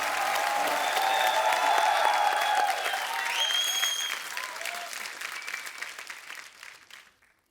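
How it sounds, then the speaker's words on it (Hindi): Loud studio audience applause on a Hindi TV comedy show, dense clapping with some cheering that swells then gradually fades out over several seconds. "आप सबकी जोरदार तालियों के बीच बुलाना चाहूंगा"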